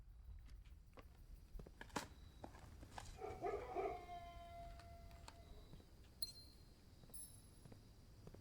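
Dogs from a kennel in the video game Blue Prince give a short burst of yips and whimpering barks, quiet and somewhat distant, over a low steady background hum.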